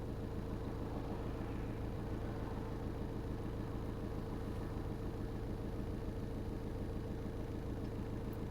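A diesel engine fitted with a gas/hydrogen injection system, warmed up and idling at a steady tick-over while still injecting gas, gives a continuous low rumble that holds even throughout with no change in pace.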